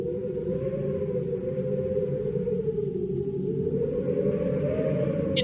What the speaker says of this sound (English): we use sounds of wailing winds to create a feeling of despair and loneliness